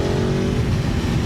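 An Aprilia Tuono V4 Factory 1100 motorcycle engine revs in short, gentle bursts of throttle, a close, steady mechanical growl with no voices.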